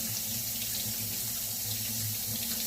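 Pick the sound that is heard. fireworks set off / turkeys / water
water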